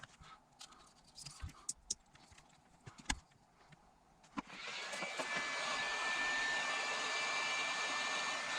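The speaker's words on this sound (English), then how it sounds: "Yeah, a little heat shrink." A heat gun blows on heat shrink tubing over a soldered wire connection for a drill horn build, starting after scattered handling clicks and then holding a loud, steady airy roar with a faint whine.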